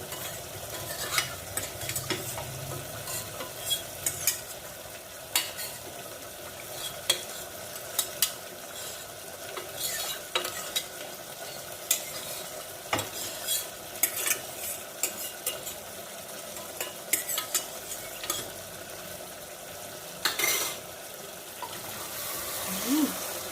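Mutton and spices sizzle faintly in a pan while a utensil scrapes and stirs in irregular clinks. Hot water is poured in and worked through, with occasional knocks against the pot.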